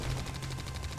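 Gatling cannons fire continuously in the real-time strategy game Mental Omega, a rapid buzzing rattle of evenly spaced shots holding steady and loud for a short burst, with no talk.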